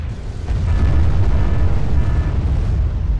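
Abbot self-propelled artillery firing in the Wargame AirLand Battle video game, a loud, sustained rumbling boom of explosions, deep and heavy, rolling on for several seconds.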